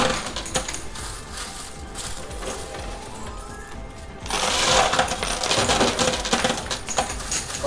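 Casino chips spilling from a high-limit coin pusher machine, a dense clattering cascade that swells into a louder continuous rattle of chips dropping, close by.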